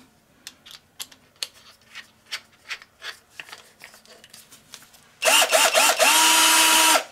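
A homeowner-grade Snapfresh combo-kit drill runs at its slow speed: a few scattered handling clicks and scrapes, then a sudden loud, steady motor whine with a warbling pitch that holds close and alone to the end.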